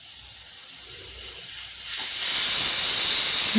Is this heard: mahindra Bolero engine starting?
no